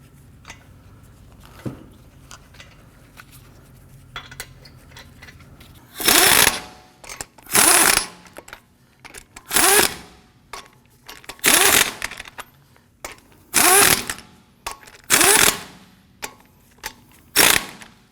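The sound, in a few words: power tool snugging down lug nuts on Ford F-150 wheel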